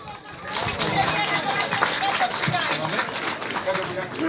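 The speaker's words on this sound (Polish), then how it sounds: "Brawa dla pani Wandy." Audience clapping at an awards ceremony for rural homemakers' cooking, a dense roomful of hands under lively crowd chatter and voices, fairly loud and continuous.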